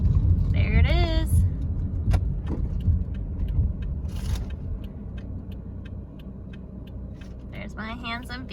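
A newly bought used van is driven along a Florida road, its low engine and road rumble running steadily throughout, with brief chirps and clicks rising above it.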